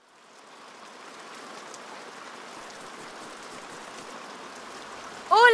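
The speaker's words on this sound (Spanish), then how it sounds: "¿También te gusta saltar en los charcos cuando llueve, Hero?" Steady rain patters and hisses, building gently from quiet and holding even, with a brief tonal chime at the very end.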